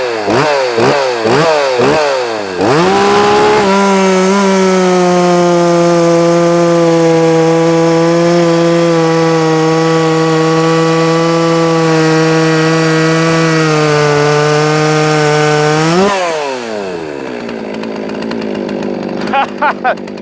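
A 60cc Poulan Pro 330 chainsaw with a Husqvarna C83 chain revs in short blips, then rips into wood with a loud, sustained bogged-down roar before winding back up and idling.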